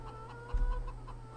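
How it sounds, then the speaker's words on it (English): Chickens cluck in Farming Simulator 17, with soft repeated clucks over a low steady farm-game hum and a brief thump partway through; no talking. "I do want to check on the chickens."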